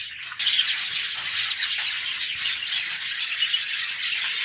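Canaries and ring-necked parakeets in an aviary keep up a busy chorus of overlapping chirps, tweets and sharp squawks, fairly close and continuous.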